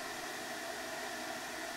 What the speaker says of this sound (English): Powered simply by a hairdryer, you can see how air moves through the cellulose